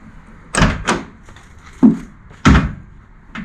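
A door on a 1966 Chevrolet Biscayne undergoing a four-door to two-door conversion shuts and latches, several solid thunks close by, with two quick knocks early and two heavier slams later, no talk.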